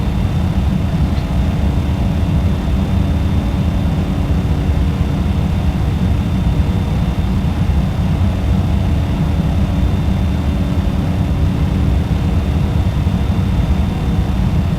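Steady, loud drone of a light aircraft engine in a flight simulator game, constant throttle with a faint high whine riding over the low hum, no talk.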